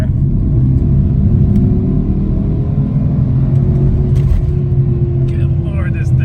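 Porsche Cayenne Turbo 958 with a SOUL aftermarket exhaust in sport mode, giving a steady deep low rumble of the engine that holds fairly loud throughout, with a brief rise near the middle.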